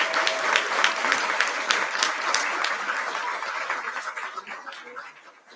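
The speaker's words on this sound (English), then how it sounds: "Can we give all of these competitors a round of applause?" People at a Board of Education meeting applaud the competitors with a round of clapping. Sharp individual claps stand out, and the applause slowly fades toward the end, with a faint murmur underneath.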